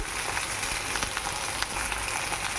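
Fish frying in oil in a pan for a Bengali-style fish curry, giving a steady, close, dense sizzle with small crackling pops throughout and no talking.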